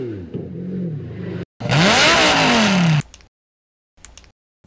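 A V12 road car engine revving through its header, a short rough idle-like burst, then a loud sustained rev that climbs and falls before cutting off, followed by faint brief pops.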